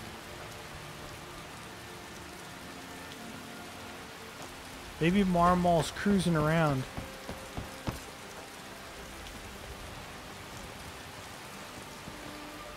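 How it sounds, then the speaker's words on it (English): Steady rain patters softly throughout in the video game Skyrim, while a voice speaks briefly partway through. "Still raining."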